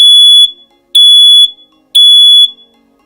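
A Google Nest Protect smoke alarm sounds its test alert: three loud, shrill beeps, each about half a second long, evenly spaced about a second apart, with nothing else heard.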